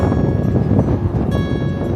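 Strong, blustery wind on the Isle of Skye roars across the microphone in a dense, continuous low rumble with gusty surges and no voices.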